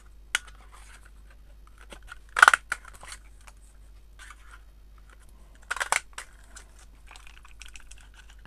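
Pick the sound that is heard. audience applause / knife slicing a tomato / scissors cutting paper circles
scissors cutting paper circles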